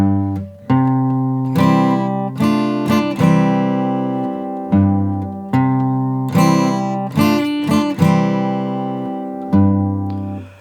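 Guitar in standard tuning plays the intro of a song alone, with ringing chords struck in a steady pattern of repeated phrases, each attack decaying before the next, close and clear.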